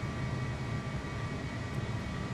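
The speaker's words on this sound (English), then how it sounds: "I can hear his jet." A jet aircraft engine idles steadily in the VATSim flight simulator on a parked airliner at the gate, a low continuous rumble with a faint high whine, heard alone for a couple of seconds.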